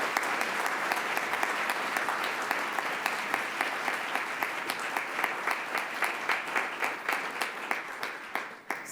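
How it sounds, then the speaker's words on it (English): An audience at a community public forum gives a round of applause, the clapping full and steady at first, then thinning out into scattered individual claps before fading. "Let's give them all a round of applause,"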